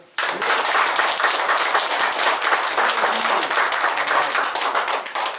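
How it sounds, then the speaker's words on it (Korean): Sustained applause breaks out at a local politicians' press conference, starting abruptly and staying as a loud, steady patter of many hands until the end. "저희들이 박수 한번 주시죠"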